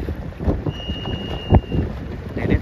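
Wind gusts buffet the microphone at a Sabot junior sailboat race at ABYC, with low rumbling bursts that swell and fade in an irregular rhythm and no voices.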